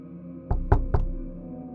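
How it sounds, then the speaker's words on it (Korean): Three sharp knocks on a door in quick succession, close and solid, with a short ringing decay over a low steady hum, used as an eerie effect in a horror radio story. "잠결에 문득 노크 소리를 들은 것 같았지만"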